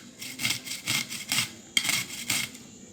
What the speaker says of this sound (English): Now take a hand grater and then just grate the cucumber along with the skin.